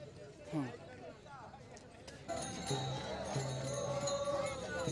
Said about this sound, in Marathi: मस्त छान आता गर्दी व्हायला लागली